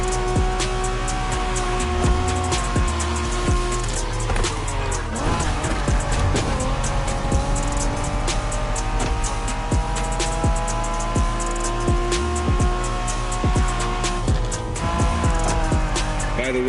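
Race car engines roar steadily from The Crew Motorfest, a loud continuous drone with shifting pitch, tire squeal and skidding, layered over game music with no pauses.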